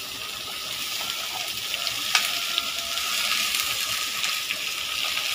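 Onions frying in a wok (kadai), a steady close sizzle with occasional sharp crackles and spatters running throughout, with no voices.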